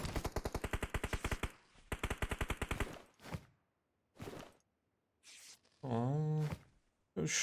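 Rapid machine gun bursts from PUBG Mobile, two long rattling volleys of evenly spaced shots followed by a few scattered single blasts and a short ringing impact, loud and close.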